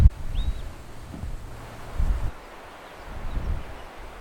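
Strong morning wind buffets the microphone in low rumbling gusts on an African game reserve, with a brief bird chirp near the start and no voices.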